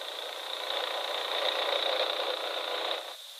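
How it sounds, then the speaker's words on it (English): Engine driving a blower fan that forces chemical into a sealed tunnel, a steady droning hum with a high whine, close and even, cutting down near the end. "the engine is started."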